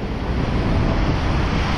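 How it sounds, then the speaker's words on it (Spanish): Sea waves break against the sides and back of a rock pool near the shore, a loud continuous roar of surf and foam with wind buffeting the microphone. "y que baten las olas por los lados y por detrás."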